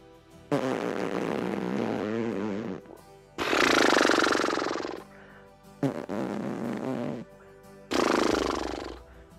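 A beatboxer's lips imitate a fart and a horse snort in alternating bursts, four long buzzing, fluttering sounds separated by short pauses, close and fairly loud.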